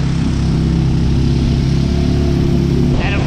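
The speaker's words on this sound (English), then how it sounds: "took a while to get the engine going, but we're moving" A small tuk-tuk engine runs loud and close in Siem Reap, a steady buzzing drone that holds without a break.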